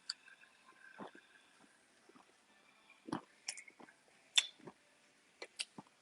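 Someone chews crunchy cheese puffs up close, with scattered faint crunches and small clicks breaking an otherwise quiet background.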